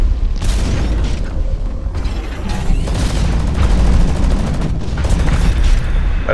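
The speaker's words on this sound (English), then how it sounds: "That's premature explosion." Heavy explosions from the mech combat video game Hawken boom loudly and continuously, mixed with dense gunfire-like crackle and mechanical clatter across the whole stretch.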